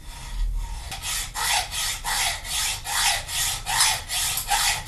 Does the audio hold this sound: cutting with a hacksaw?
yes